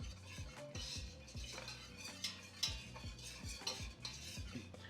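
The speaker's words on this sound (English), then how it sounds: "I'm gonna continuously whisk my mixture, that way it won't burn." A whisk scrapes and clicks rhythmically against a metal pan as roux cooks on low heat, with quick repeated strokes over a faint sizzle and no talking.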